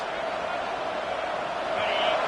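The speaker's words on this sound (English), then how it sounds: "The roar of the crowd trying to fuel this defense to keep them pinned in their own end" A football stadium crowd at an Ohio State vs Michigan game roars in a broad, sustained wash of noise, swelling slightly toward the end, with no clear single voices standing out.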